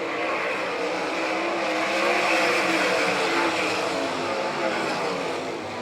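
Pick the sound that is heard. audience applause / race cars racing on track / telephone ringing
race cars racing on track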